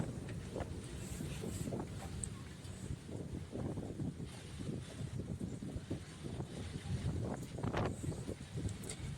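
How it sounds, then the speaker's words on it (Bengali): Strong storm wind gusts through swaying mango trees ahead of a hailstorm, a loud, continuous rushing roar with buffeting against the microphone and surging peaks throughout. "কেমন হাওয়া চলছে দেখছো।"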